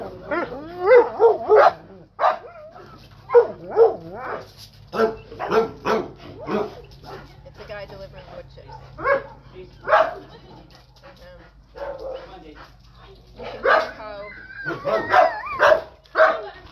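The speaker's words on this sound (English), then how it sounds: "You can hear how stranger danger dogs react to a stranger driving onto their property" A pack of sanctuary dogs barks at a delivery driver arriving with wood chips, with repeated loud bursts of barking, yips and whimpers near and far, while people talk over and between the barks.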